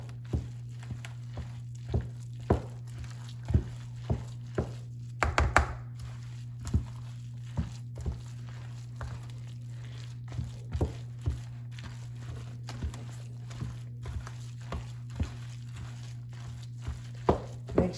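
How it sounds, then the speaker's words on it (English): A spoon scrapes and knocks against a pot of chili and tamales as it is stirred, sharp regular clacks roughly every second over a steady low hum, with faint sizzling beneath. "Now it's time to stir this thing on up."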